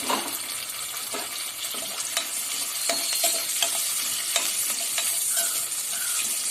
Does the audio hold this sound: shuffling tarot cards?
no